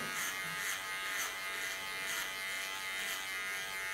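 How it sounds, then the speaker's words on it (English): Electric hair clipper running steadily up close while shaving the back of the neck, a continuous buzzing hum with slight pulsing as it passes over the nape, no voices. "Put my clipper in the common position and go against the cutting."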